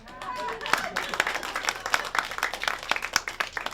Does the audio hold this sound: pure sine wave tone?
no